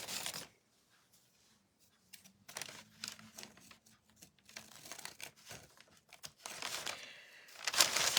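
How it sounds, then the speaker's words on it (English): Scissors cutting paper for decoupage, a run of close, quiet snips and crinkling paper rustles in irregular bursts, separated by near-silent pauses. "we'll take our scissors"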